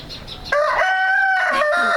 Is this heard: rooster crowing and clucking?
yes